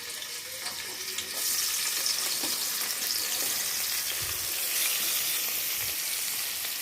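Spice ingredients fry in oil for a pointed gourd and fish curry, a close, continuous hissing sizzle that swells after the first second and holds steady, with occasional soft knocks.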